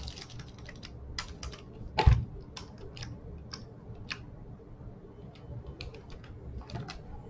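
Fingers tap out text on a computer keyboard, a quiet irregular series of clicky keystrokes with one louder knock partway through and no talking.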